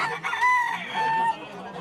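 Roosters crow loudly and close by at a cockfight in Guadeloupe, with one long drawn-out call followed by another, over a noisy background of spectators.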